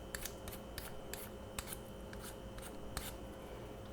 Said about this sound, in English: I'm just slowly peeling the outer portion away